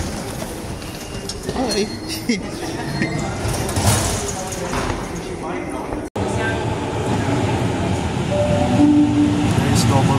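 Double-decker commuter train riding in Sydney, a steady rumbling roll with clattering wheels and brief squeals heard from inside the carriage, with people talking briefly over it.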